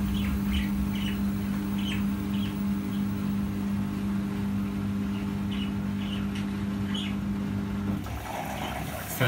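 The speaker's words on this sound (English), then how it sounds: "The birds are getting a little bit stressed there because they're feeling the vibration." Small birds chirp in short, scattered bursts over the steady, close hum of a Samsung AddWash EcoBubble WW90K5410UW washing machine running a 60°C wash, with a brief shift in the background noise near the end.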